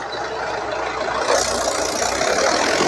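Tractor engine straining hard under a heavy trailer load of about 200 quintals, a loud, continuous, grinding drone that swells slightly partway through, with no voices.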